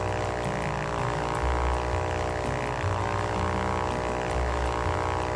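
A propeller airplane engine runs at full throttle in the Ultrawings flight game, a steady, loud droning hum with a rhythmic buzz that holds level throughout, no talking over it.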